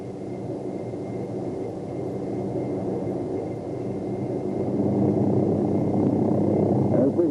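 Hughes OH-6 helicopter during a maximum performance takeoff, with a steady, loud rotor and engine drone that builds slightly as it climbs. The sound is continuous with no talk over it.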